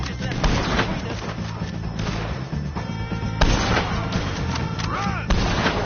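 Sustained gunfire against O'Driscoll gang members in Red Dead Redemption 2, dense booming shots and thuds over a continuous loud battle din, with bursts near 0.5, 3.4 and 5.3 seconds.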